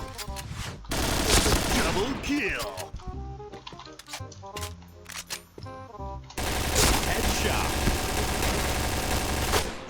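Rapid bursts of automatic gunfire from a shooting video game, loud repeated volleys with brief gaps and some single shots, while someone talks excitedly over them.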